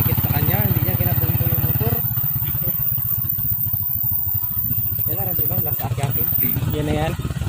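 Motorcycle engine on a mountain road, a steady low throbbing drone running loud and close under ongoing talk throughout.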